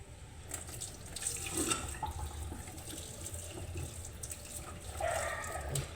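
Water runs steadily from a kitchen tap into a pot for cooking spaghetti, a continuous close splashing rush with a brief stronger surge near the end.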